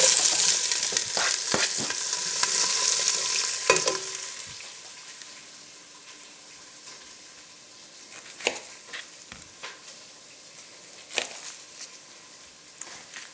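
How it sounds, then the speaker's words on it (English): Chopped onion hits hot oil with a loud sizzle that settles into a steady, quieter fry, broken by occasional sharp clatters of utensils against the pan. "I'm gonna dump this onion in our oil"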